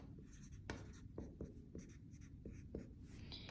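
Chalk or marker strokes on a board while working a geometric progression problem, a series of short scratchy taps and scrapes in an irregular rhythm, close and fairly quiet with no talking.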